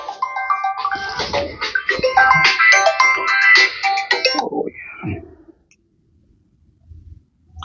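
A bright electronic ringtone melody plays loudly for about four seconds, then cuts off, followed by a few soft movements and near silence.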